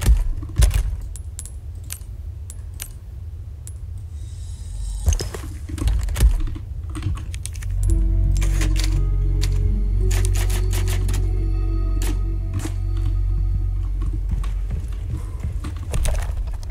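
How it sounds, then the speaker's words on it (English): Rapid typewriter clacking from the Resident Evil 4 save room, irregular bursts of sharp keystrokes with a bell-like ping early on, set over a steady low game ambience that swells partway through. "Oh, typewriter."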